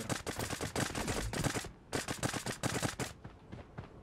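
Rapid bursts of gunfire in the video game Creative Destruction crackle in quick succession, loud and sharp, with a brief pause midway before more shots and a fading tail.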